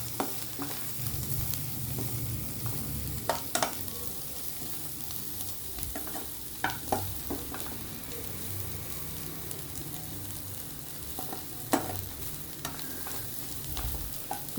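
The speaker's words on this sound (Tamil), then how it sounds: "இப்போ வெங்காயத்தை கிளறிக்கிட்டே இருங்க. ஒரு நிமிஷம் விட்டு கிளறுங்க." Sliced onions frying in a pan for chicken uppu kari, stirred now and then: a steady close sizzle with sharp scraping spatula strokes at irregular intervals, no talking.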